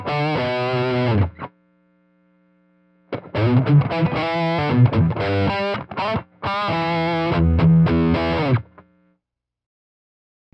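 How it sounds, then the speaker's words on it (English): Strymon Riverside multistage drive pedal on a high-gain guitar setting with the bass control turned up: thick distorted chords and riffs in two loud bursts separated by a pause, with no talk. "let's turn the bass control up as we experiment in some of these higher gain sounds"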